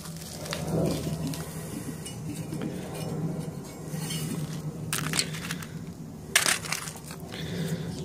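An impact mill crushes high-grade gold ore with uneven grinding, clattering and hard knocks, including a sharp burst of rattling impacts near the end, all at close range.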